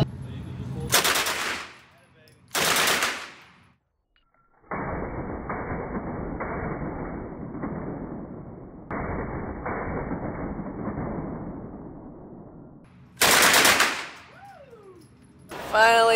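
Gunfire at an indoor shooting range, with loud single shots near the start and end framing two long sustained automatic bursts, each several seconds of rapid continuous fire, close and dominant.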